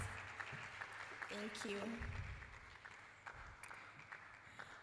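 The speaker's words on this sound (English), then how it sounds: "Please keep on clapping until she comes right up." Audience clapping at a student entrepreneurship summit continues as a steady, moderately loud patter while a voice speaks briefly over it partway through.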